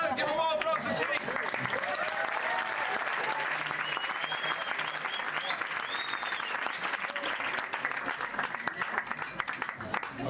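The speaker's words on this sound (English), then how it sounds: "give them all applause for Chitty!" Sustained audience applause for a performer named Chitty at a Mezrab storytelling event, dense and steady throughout, with voices calling out over the clapping.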